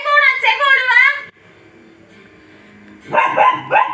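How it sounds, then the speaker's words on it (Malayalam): A dog barks in a rapid burst, then a voice speaks quietly before a few more sharp barks close by. "ഇവിടെ നിന്നുള്ള കുര മാത്രമേ ഉള്ളൂ"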